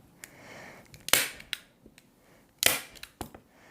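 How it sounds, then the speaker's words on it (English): An old staple gun fired into canvas for woven wall art gives two loud, sharp snaps spaced a second and a half apart, with a few smaller clicks and handling knocks in a quiet room. "My staple gun is so old."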